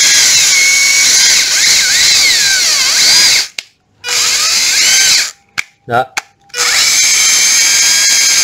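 A Hilti or Makita hammer drill runs loud and close with a high whining motor. It cuts out briefly, restarts in short bursts, then runs steadily again, while a person speaks.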